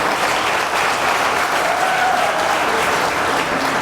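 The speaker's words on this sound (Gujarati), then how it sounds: "બેન્ડ માટે જોરદાર તાળી" Audience applause for a worship band at a gospel camp in a church in Dahod, a steady dense wash of clapping filling the whole stretch at even loudness, with no voices on top.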